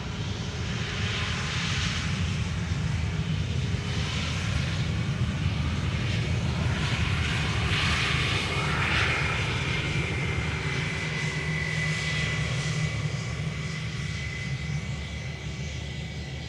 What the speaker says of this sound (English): This is an A320